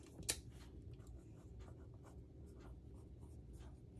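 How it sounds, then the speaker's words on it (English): A pen scratching out a measurement on paper during a scrapbook mini-album craft session, steady close scribbling strokes over a low background hum, no talk. "let me write that down"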